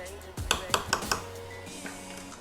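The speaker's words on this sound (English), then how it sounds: "So what I'm going to do first is I'm going to mash it. Mash the potatoes a little bit." Several sharp clinks and thuds of a masher hitting boiled potatoes in a dish, about five quick knocks in a row, close and moderately loud, followed by a softer lingering tone.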